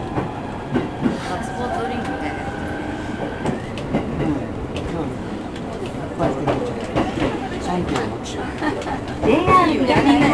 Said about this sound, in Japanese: この電車は高崎線普通電車籠原行きです。